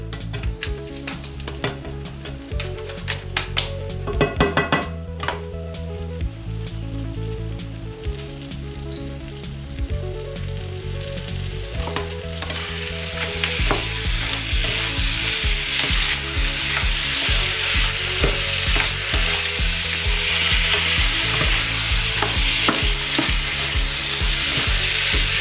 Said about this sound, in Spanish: Rehogamos un poquito el arroz.